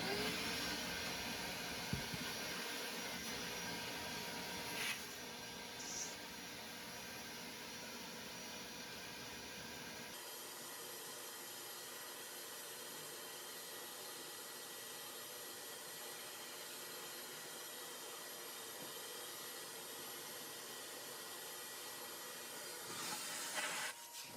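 A vacuum cleaner reversed to work as a blower pushes out dust with a steady, breathy hiss and whoosh, changing in tone partway through and then running on evenly at a moderate level.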